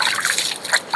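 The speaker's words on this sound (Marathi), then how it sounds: "आता पाणी लावतो." Water splashed by hand onto the face after shaving at home, a brief close splash and dribble lasting about a second.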